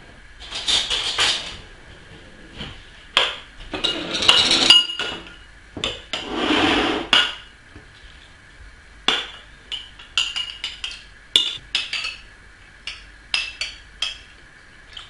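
Spoon stirring water into tomato paste in a metal pot, with irregular clinks and scrapes coming in short bursts and pauses, close and fairly loud, with no talking.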